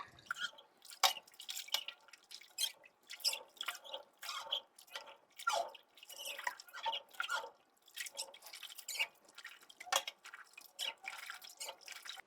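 Corn kernels being rinsed in a bowl of water for homemade tortillas give wet splashes, drips and squishy stirring, irregular and close, quiet and alone without talk.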